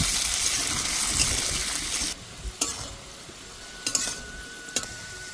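Chopped papaya fries in a pan with a loud, close sizzle for about two seconds, then the hiss drops away, leaving a few sharp clinks and scrapes of stirring.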